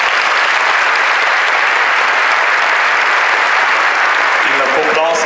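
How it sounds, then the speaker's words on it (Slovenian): Audience at a charity concert breaks into sustained, dense applause that fills the whole stretch evenly and loudly, with a few louder claps and a brief voice surfacing near the end. "In zato en velik aplavz našim čudovitim otrokom, Downovčkom in njihovim izrednim staršem"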